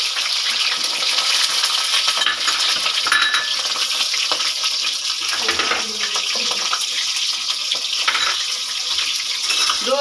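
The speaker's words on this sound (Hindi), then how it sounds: "इसी ऑयल में अब करेंगे। और इसके साथ ही दोनों टमाटर भी डाल देंगे।" Tomatoes fry in hot oil for an eggplant chicken curry, giving a loud, steady sizzle that runs the whole time without a break.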